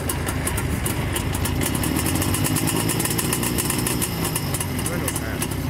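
Motorcycle engine idling steadily at a motorsport museum, a continuous close rumble with even texture throughout, while people talk nearby.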